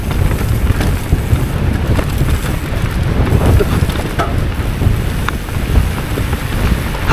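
Strong wind buffeting the microphone on a dry mountain bike trail in Scotland, a loud continuous rumbling roar with gusty surges throughout.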